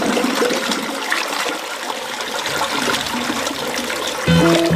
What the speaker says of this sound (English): toilets are flushing